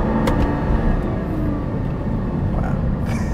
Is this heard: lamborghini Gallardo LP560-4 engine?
yes